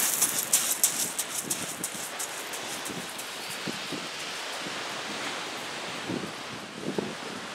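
Steady surf washes along a Sea of Japan beach, a constant broad rush with occasional wind buffeting on the microphone and faint gull-like chirps early on.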